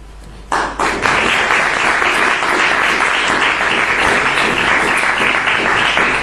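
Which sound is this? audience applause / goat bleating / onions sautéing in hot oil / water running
audience applause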